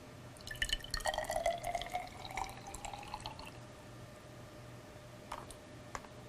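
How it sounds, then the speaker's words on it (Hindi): Limewater pours into a test tube in a school lab, a short trickle and splash with bright ringing glassy tones, followed by a few faint drips in a quiet room. "सबसे पहले हम अ परख नली लेंगे और इसमें चूने का पानी डालेंगे।"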